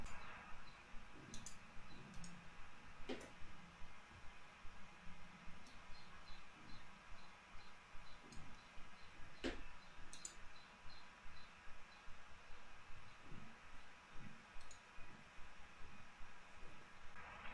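Computer mouse right-clicks selecting nodes in threat-analysis software, heard as short, quiet, sharp clicks scattered over a steady faint background hiss, with no talking.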